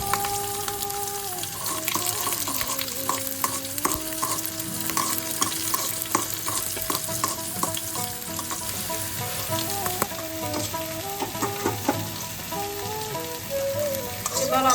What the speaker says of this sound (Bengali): শুকনো লঙ্কা দিয়ে দিলাম, সেই সঙ্গে চেরা কাঁচা লঙ্কা আর কালো জিরে দিয়ে দিলাম।